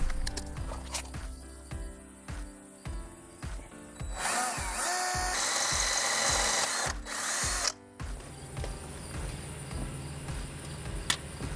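A power drill whirs loudly for several seconds, drilling a hole to mount rock lights, amid steady rhythmic knocking and clatter, close by, with no one speaking.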